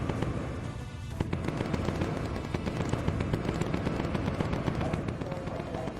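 Bomber gunners in the Bomber Crew game fire machine guns at enemy jets, a dense continuous rattle of rapid shots at steady loudness across the whole stretch.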